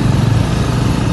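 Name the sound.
motorcycle engine straining on a rough road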